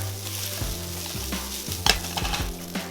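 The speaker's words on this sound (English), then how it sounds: "we want to stir fry and toss this together until the rice is heated through" Rice sizzles steadily in a hot pan while it is stir-fried and tossed, with scraping and a brief clatter, close up and without speech.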